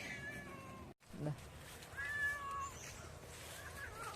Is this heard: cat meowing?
yes